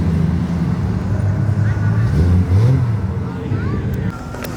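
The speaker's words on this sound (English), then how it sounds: "A twin turbo Gallardo and a Supra. Ooh. You can hear the turbos from here." Twin-turbo Lamborghini Gallardo and Toyota Supra engines rev at a busy car meet, rising and falling deep engine notes heard from some distance through crowd noise and traffic rumble, with people talking nearby.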